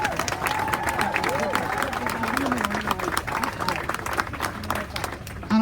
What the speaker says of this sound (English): I think they deserve a massive round of applause as well